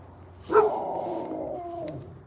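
A single dog gives one loud bark that trails into a drawn-out, whining howl, close by and with no one speaking over it.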